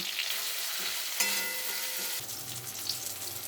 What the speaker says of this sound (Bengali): এখন ভেজে রাখা আলুগুলোকে দিয়ে দেব